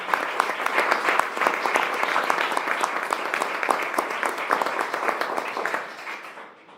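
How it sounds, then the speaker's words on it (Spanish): An audience at the Casa de Cultura in Querétaro breaks into a full, steady round of applause welcoming the speakers at a diploma-course session on transparency and open government, dense clapping that fades out in the final second. "A todos ellos pido les demos una cordial bienvenida a través de un fuerte aplauso."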